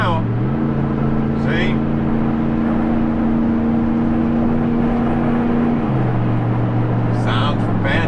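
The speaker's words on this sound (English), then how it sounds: "the truck sounds good. If I kick it down like right now" A 2003 Dodge Ram with a Hemi V8, heard from inside the cab as the transmission kicks down, engine drone stepping up in pitch and holding steady before settling back; a voice speaks briefly over it.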